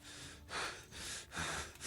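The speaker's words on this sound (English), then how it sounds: "That's him puffing and panting, isn't it?" An enemy in Kingdom Come: Deliverance puffs and pants mid-fight, a run of heavy, rhythmic breaths repeating about every half second, close and steady.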